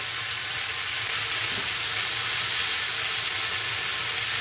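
Long beans (borboti) frying with tomato in a pan over medium-high flame, a loud continuous sizzle with occasional stirring, close and steady, no voices.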